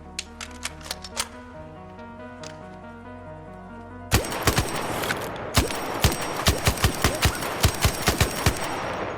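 Gunshots from a weapon in the video game ARC Raiders on a training range. A short string of separate shots comes first, then a louder sustained burst of rapid, evenly spaced shots fills the second half.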